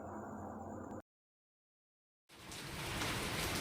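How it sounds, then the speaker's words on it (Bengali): Heavy rain pours down in a dense, steady hiss with no voices, broken by a brief gap before the downpour returns louder and fuller. "এই দেখো ঝমঝম করে বৃষ্টি শুরু হয়ে গেছে।"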